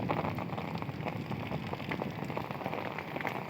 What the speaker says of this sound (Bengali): আজকে ঢাকায় প্রচণ্ড বৃষ্টি হচ্ছে।